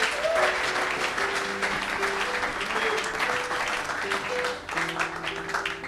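A church congregation at a Sunday French-language worship service applauds steadily for several seconds, a dense wash of clapping with a faint sustained organ or keyboard tone underneath.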